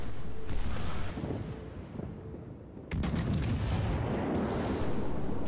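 Secondary guns on a warship in World of Warships fire at the battleship Bismarck, making a low, continuous rumbling barrage with a sharp report partway through.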